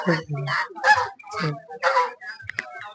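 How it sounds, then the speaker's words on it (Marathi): Loud honking bird calls repeat in bursts close by, gobbling and squawking from a group of turkeys at a poultry stall at an agricultural exhibition in Palus, with a few sharper cries near the end. "हे पक्षी टर्की जातीचे पक्षी आहेत"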